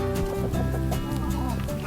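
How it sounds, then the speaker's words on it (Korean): A flock of about thirty chickens kept by a man clucks close by, with overlapping busy calls filling the whole moment. "익숙한 울음소리를 따라간 곳은 주변에서 닭아빠로 불릴 만큼 그가 애지중지하는 30여 마리 닭들이다"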